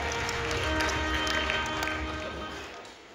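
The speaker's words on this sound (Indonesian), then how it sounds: "Apresiasi tepuk tangan yang paling meriah." A large audience at a culture awards evening applauds the Indonesian education and culture minister, a broad wash of clapping mixed with sustained musical tones that fades slightly toward the end.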